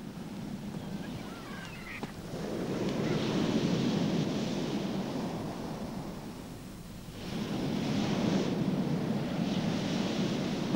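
Sea waves wash onto the shore in two long swells, a broad rushing surge that rises, eases around the middle and builds again, with wind buffeting the microphone and no voices.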